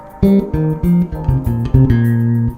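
Deep plucked bass guitar notes play a short repeated rhythmic phrase, close and clear, with no talking over them.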